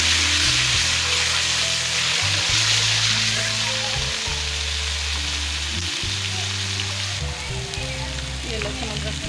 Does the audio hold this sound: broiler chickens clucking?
no